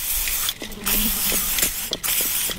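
A WD-40 aerosol can hisses in a loud, close spray, broken by a couple of short pauses between bursts.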